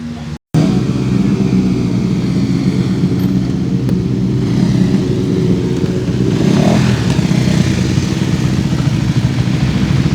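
A Voge 125R motorcycle engine roars loudly and continuously on the Radom race track, close up, with wind buffeting and a rising rev near the end.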